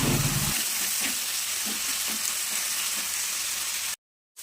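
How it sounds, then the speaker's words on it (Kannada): Chilli, chopped onion and ginger frying in a pan for a mackerel dry curry, a steady close sizzle with a few soft stirring knocks, continuing alone before cutting off abruptly near the end. "ಕಟ್ ಮಾಡಿದ ನೀರುಳ್ಳಿ ಕೂಡ ಹಾಕ್ತಾ ಇದ್ದೇನೆ ಒಂದು ತುಂಬ ಶುಂಠಿ ಎಲ್ಲವನ್ನು ಹಾಕಿ ಸ್ವಲ್ಪ ಫ್ರೈ ಮಾಡ್ತಾ ಇದ್ದೇನೆ"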